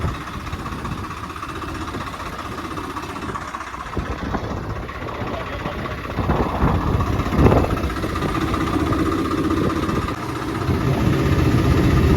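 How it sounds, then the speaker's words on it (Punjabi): A tractor engine runs steadily in a ripe wheat field at harvest time, a mid-pitched rumbling idle with no talk over it, swelling a little louder around the middle and again toward the end. "ਪਿੱਛੇ ਟਰੈਕਟਰ ਆਪਣੇ ਵਾਲਾ ਵੀ ਆ ਗਿਆ"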